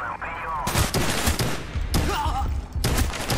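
Machine gun fire in Call of Duty Black Ops, loud bursts of rapid shots in several volleys with brief pauses between, with voices and game sounds mixed in.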